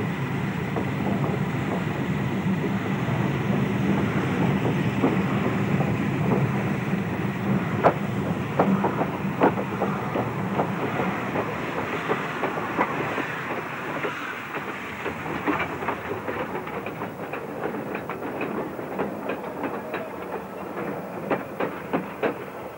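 An Indonesian steam train with an articulated locomotive and lightweight coaches crosses a rail yard, a continuous low rumble with rhythmic wheel clicks quickening over the joints toward the end, heard at moderate distance without speech.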